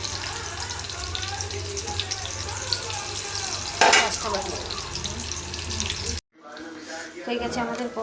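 Cabbage pakoras made with rice flour fry in a pan with a steady, close sizzle. They are stirred or turned partway through, and after a short cut the frying goes on more quietly under a speaking voice.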